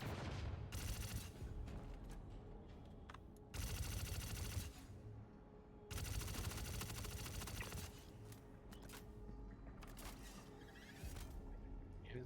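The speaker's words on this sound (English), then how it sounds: "Who's firing?" Bursts of automatic gunfire from the space combat game Star Citizen, coming in several long sustained volleys separated by brief lulls, dense and loud throughout with no talk over it.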